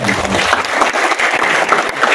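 Audience at a youth organisation (KNPI) political gathering in West Nusa Tenggara applauds, a steady, dense wash of clapping sustained throughout at close range, with a faint voice briefly underneath.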